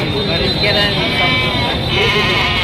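Sheep and young lambs bleat at a livestock market in Kerur, their calls mixed with the loud, steady din of a crowd talking nearby.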